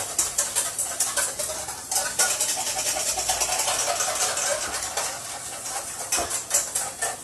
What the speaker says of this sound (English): We have in here 2 egg yolks and our lemon juice. We're just going to mix this up.